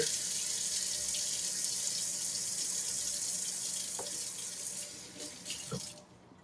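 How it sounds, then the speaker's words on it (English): Kitchen tap running steadily as a knife blade is rinsed of rice residue, a continuous hiss of water into the sink with a few clinks before it shuts off near the end. "almost every time I'm cleaning this with water"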